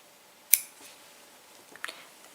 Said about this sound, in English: You can cut your yarn and fasten off.